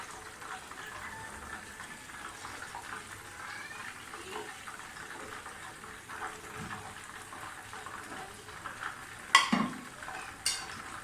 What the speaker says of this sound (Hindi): और फिर दोबारा से फ्राई करूँगी।